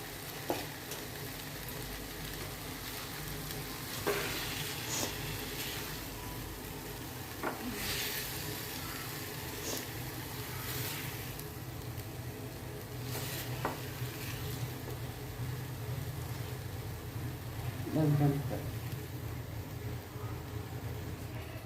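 Potatoes frying in a pan, heard as a dense, even sizzle and hiss that runs throughout, with occasional soft scrapes and a brief louder stir near the end, close by and without talk.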